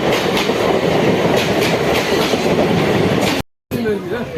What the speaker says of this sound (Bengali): এটা কোথাকার ট্রেন ঢুকলো? শিয়ালদা।